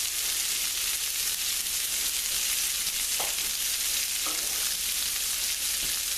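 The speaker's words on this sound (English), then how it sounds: "you just want to sweat them up to get the flavors out." Vegetables sweating in a pan for BBQ beef short ribs with pasta, giving a steady, even sizzle with a few faint scrapes of stirring.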